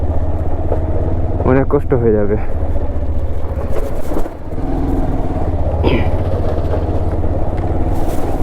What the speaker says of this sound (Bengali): দেখতে পাচ্ছেন একটা বাইক কোন মতো বের হচ্ছে